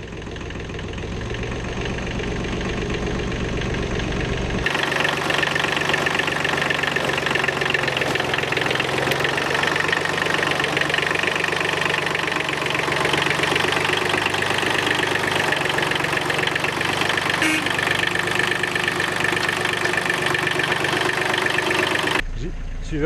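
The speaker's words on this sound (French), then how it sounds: "C'est plus facile avec le tracteur, je vais te pousser." A tractor engine idles steadily and close by for the whole stretch, a constant mid-pitched rumble with a faint knocking texture that briefly drops off at the start and end.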